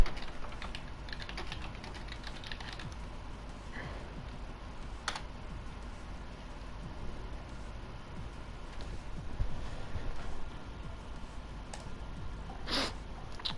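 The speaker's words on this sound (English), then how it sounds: "Sorry if you can hear the typing." Steady clicking of typing on a computer keyboard, close and moderately quiet, running continuously with a few sharper key taps, during a racing league broadcast.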